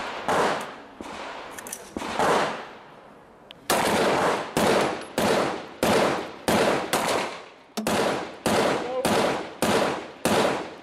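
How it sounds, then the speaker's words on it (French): Pistol shots ring out at a small steel target plate, roughly fifteen sharp cracks in uneven bursts and pairs, loud and crisp with short decays, some fired in quick succession. "Il fallait toucher cette toute petite plaque en acier à 25."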